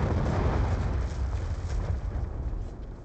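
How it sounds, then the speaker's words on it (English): A hellstorm missile explodes in Call of Duty Black Ops II as a broad, rumbling blast that fills the moment and slowly fades. "Friendly hellstorm missile inbound."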